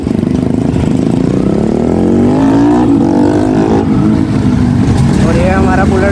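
A Royal Enfield Bullet motorcycle rides on the road among sports bikes, its engine droning loud and close with rising revs throughout, while a rider talks over the engine noise.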